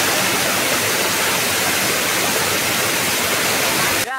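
Ranewadi waterfall roaring as a loud, steady, broadband rush of falling water close by, unbroken throughout before cutting off abruptly at the end.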